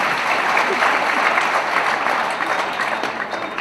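Dense, sustained applause from the audience at a kavi sammelan poetry gathering in Indore. The clapping is steady and full, easing slightly toward the end.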